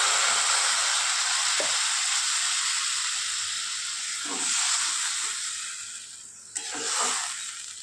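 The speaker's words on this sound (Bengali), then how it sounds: "এবার দিয়ে দেবো জল।" Spice paste for a hilsa oil-jhal curry sizzles steadily in hot oil, then water is poured in and bursts of hissing steam rise from the pan, with no talking.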